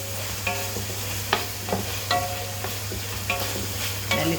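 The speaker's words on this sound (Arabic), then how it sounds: "نقلب كده كام تقليبه قبل ما نحط الفلفل" Alexandrian-style liver frying in a pan and being stirred, with several short scraping stirs spaced across the clip over a steady low sizzle, close and moderately loud.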